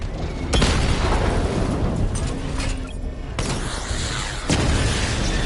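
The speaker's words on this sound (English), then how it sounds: "Destroy targets to charge up weapon energy and activate missile barrage" Missile barrage explosions in Batman: Arkham Knight, a run of loud booming blasts with sharp onsets and rumbling tails over constant combat noise.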